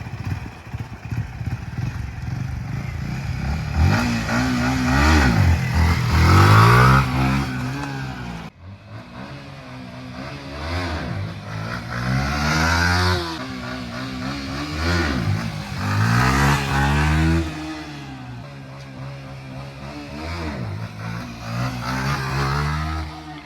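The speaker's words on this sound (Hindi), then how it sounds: "अब मैं आपको करके दिखाता हूँ एक विली" Motorcycle engine revving hard and rising as the rider pulls a wheelie, with repeated surges and drops in pitch, loud and close throughout.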